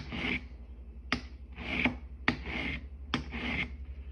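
Three slow, rasping strokes of a Tuffhead Evo three-blade broadhead drawn across the coarse side of a hand sharpener, each a gritty scrape ending in a sharp tick, close and alone with no talk.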